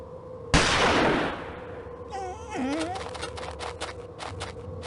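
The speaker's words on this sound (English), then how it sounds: "The gunshot seems to have frightened him off." A single loud gunshot cracks out in the Agatha Christie Murder on the Orient Express video game and trails off in a long echoing decay, followed by wavering cries and a quick series of faint clicks.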